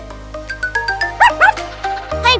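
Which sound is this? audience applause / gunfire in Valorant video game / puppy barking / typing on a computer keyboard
puppy barking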